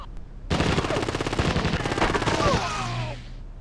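Rapid automatic gunfire from a gunfight in the Rainbow Six video game, a dense burst of shots lasting about two seconds, loud and close, then fading into a lingering echo.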